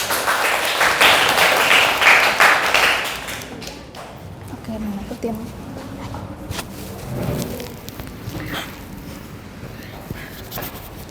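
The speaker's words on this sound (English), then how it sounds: "Please join me in giving them a big round of applause." An audience at a class presentation forum gives a presenting group a loud burst of applause. It fades after about four seconds into quieter room noise, with scattered taps, movement and some talking.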